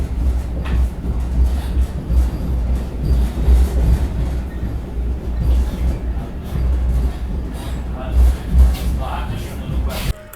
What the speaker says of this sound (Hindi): अभी देखो अपनी ट्रेन पहुंच चुकी है बेतिया रेलवे स्टेशन